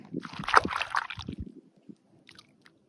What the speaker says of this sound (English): So much bubbling in here.